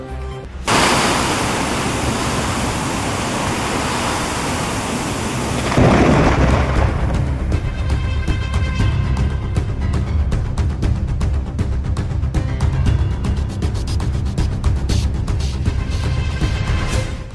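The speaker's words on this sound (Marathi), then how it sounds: "पिंपळगाव बसवंत परिसरात वादळी वाऱ्यासह जोरदार पाऊस" Thunder booms, then heavy rain pours down in a dense, roaring wash, with gusting wind, loud and continuous throughout, during a storm with lightning in the Pimpalgaon Baswant area near Nashik, India.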